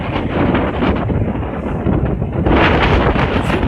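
Strong, tornado-strength gusts roar straight into the camera microphone, a loud, dense rumbling buffet that eases slightly mid-way and then surges harder again.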